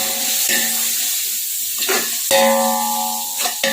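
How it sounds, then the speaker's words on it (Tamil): Mint leaves fry in a pan for birthday biryani: a close hiss and sizzle steadies under a few sharp spatula scrapes and clanks, the loudest coming in the latter half. "புதினா போட்டு கொஞ்சம் போல் போடணும். போட்டு அதை நல்லா ஃப்ரை பண்ணணும்"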